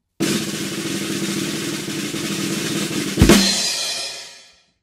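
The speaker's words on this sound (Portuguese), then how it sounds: "Esse é um som de uma bateria." A drum kit roll: a steady rapid rumble of snare hits lasting about three seconds, capped by one loud crash accent that rings out and fades, played alone.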